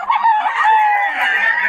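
A Sweater Gilmore gamecock rooster crows close and loud, one drawn-out call lasting under two seconds.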